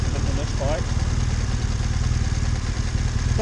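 BMW 1200 GS motorcycle engine under way, a loud, steady low throbbing rumble with road and wind noise, heard close for a few seconds.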